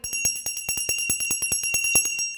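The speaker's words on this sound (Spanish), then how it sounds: "tocando la campana." A hand bell rung by a priest in rapid, steady strokes, about fifteen bright metallic rings over a couple of seconds, loud and close with no talking.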